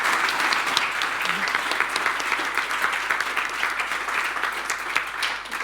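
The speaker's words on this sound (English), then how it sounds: "round of applause." Audience applause at the end of a conference talk, steady, dense clapping throughout, moderately loud and close, with no clear voices over it.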